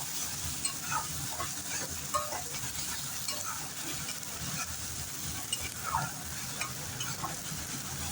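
Salt, chilli, cumin and coriander powder are stirred and fried in a pan, producing a continuous close sizzle with repeated scraping stirs and soft crackles.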